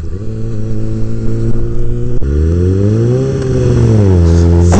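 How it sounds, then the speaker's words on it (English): A motorcycle engine revs hard and struggles in second gear, its pitch holding, dropping sharply, then climbing and wavering, loud and close throughout. "This bike just does not go in second gear."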